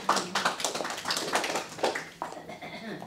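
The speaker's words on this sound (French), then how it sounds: "On applaudit Raymond." Applause for a contestant at a seniors' residence quiz game, a short burst of scattered clapping from a small group, close and fading out after a few seconds.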